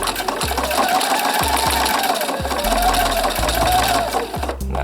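A sewing machine runs in short, close bursts while stitching pants, with brief pauses between runs as the stitching backs up and goes forward again.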